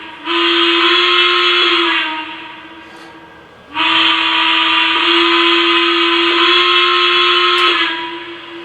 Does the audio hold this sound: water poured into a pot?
no